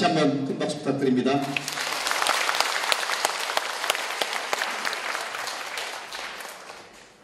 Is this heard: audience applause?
yes